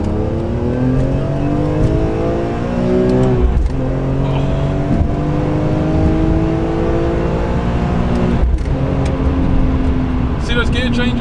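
BMW M3 with SMG gearbox revving hard while overtaking, engine note climbing in rising sweeps broken by sharp gear changes, loud and close from inside the car.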